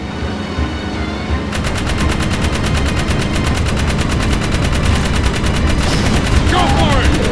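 Rapid, steady automatic gun bursts from a lock-on weapon in Jak 3, firing continuously and loudly against metalheads amid game sound effects.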